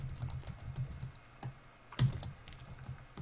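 Someone types on a computer keyboard while coding, quiet irregular key clicks and a few firmer taps, close and soft, with no talking during the typing.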